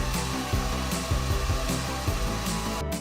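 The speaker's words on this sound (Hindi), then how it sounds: "इसे हम ब्लेंड करेंगे जब तक ये क्रीमी स्मूथ ना हो जाए" A kitchen blender whirs through a probiotic smoothie, a loud continuous motor drone with rhythmic chopping pulses as the contents churn, running alone without talk and cutting off sharply near the end.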